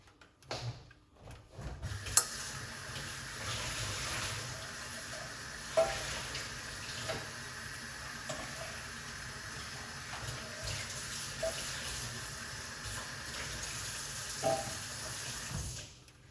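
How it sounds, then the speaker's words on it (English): Tap water runs steadily into a sink as ingredients are rinsed with baking soda, a close, even hiss and splash lasting the whole time, with a few small clinks and no talking. "I'm going to rinse off my ingredients with the baking soda"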